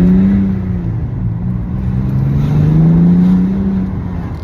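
A BMW E90-series 330d diesel with its rear exhaust silencer removed hums close by as the engine revs up and eases back, a loud, deep, droning exhaust note with no talk.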